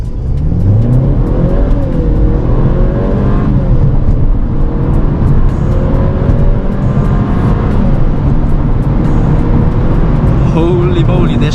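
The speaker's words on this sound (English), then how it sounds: "this car wants to go" A 184 HP 2015 Mercedes-Benz A-Class accelerates hard in sport mode with traction control off, its engine loud and steady from inside the cabin, with pitch rising through gear changes.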